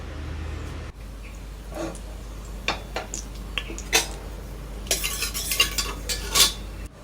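Whole spices (star anise, cardamom) and dried fenugreek leaves being tempered in a little oil in a pan for pulao, with quiet sizzling under repeated clinks and scrapes of a spoon against the metal.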